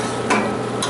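A spoon stirs hot pork cooking liquid in a pot as it thickens into syrup, a close, brief scraping swirl with two sharp metallic knocks against the pan amid a faint sizzle.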